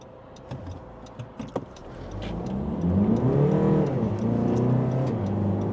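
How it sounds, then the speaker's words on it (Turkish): A Honda Civic 1.6 i-DTEC diesel with an eight-speed ZF automatic pulls away from a standstill, its engine note rising and swelling over a few seconds, heard from inside the cabin after a few small clicks and taps. "Arka tarafın müsait olduğu bir anda da gaza basıp kalkışımızı yapacağız."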